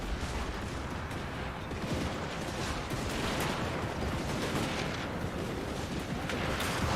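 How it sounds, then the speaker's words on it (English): Great cannon artillery in the Total War: Warhammer 2 battle game firing amid dense battle noise, a continuous roar of booming blasts and gunfire with no clear gaps, loud throughout. "Great cannon!"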